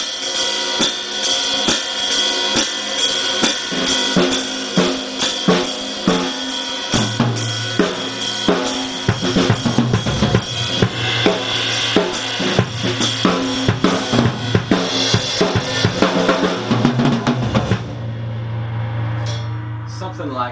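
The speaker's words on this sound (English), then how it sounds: "Another beat I like to teach my students involves a swing pattern on the ride." Swung jazz ride cymbal pattern on a drum kit, a steady shimmering ride with bass drum and snare joining in partway through, played alone without talk for about twenty seconds.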